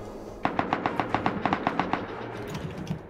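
Automatic gunfire in the survival video game Rust, a rapid burst of roughly fourteen evenly spaced sharp shots over about a second and a half, fairly loud, followed by a fading tail with no talk.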